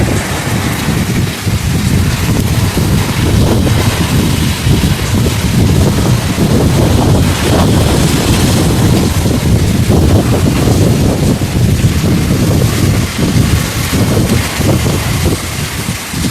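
Hurricane wind roars at night in a steady, loud, unbroken rush that buffets the microphone, mixed with a rain-like hiss and no pauses.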